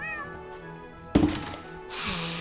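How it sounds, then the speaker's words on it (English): A cat gives a short meow near the start, then a sudden loud thump and rustling noise follows, with faint background sound under it. "That's my cat."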